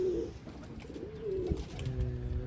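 Pigeons coo close by in a few soft, low, rolling calls over a steady background murmur.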